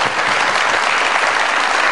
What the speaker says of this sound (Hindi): बहुत सारी तालियां हाजी मोहम्मद अदील साहब के लिए जी